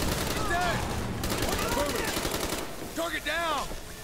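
Sniper rifle gunfire in the video game Call of Duty Black Ops, with sharp shots amid ongoing battle noise and game speech layered over the action.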